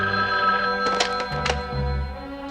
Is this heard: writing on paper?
no